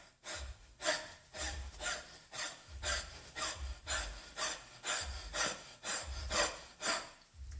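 Exaggerated, heavy breathing driven by the shoulders and chest, like a panting dog: about a dozen rhythmic, close, loud, raspy inhale-exhale cycles in a steady pulse, with no talking.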